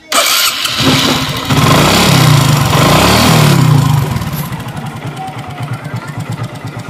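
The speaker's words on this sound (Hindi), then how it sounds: "सबसे पहले गाड़ी के इंजन को गर्म करना है, इसका हेड सिलेंडर गर्म करना है।" A Hero Glamour 125 motorcycle engine starts and idles to warm up, loud and close, with a steady thumping putter that settles slightly after a few seconds.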